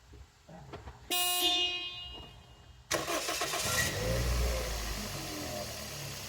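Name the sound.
2002 Toyota Echo engine starting and stalling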